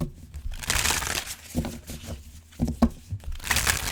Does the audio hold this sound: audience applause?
no